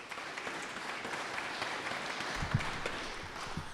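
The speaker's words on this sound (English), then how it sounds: "Can we give Matt another round of applause?" A crowd at an athletics celebration applauds in a steady, dense wash of clapping that holds for several seconds without a break.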